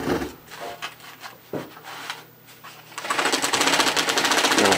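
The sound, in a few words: carpet binding machine sewing binding tape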